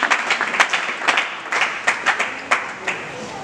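An audience at a church event claps in loose, uneven bursts, a moderate crowd applauding close by with scattered sharper claps throughout.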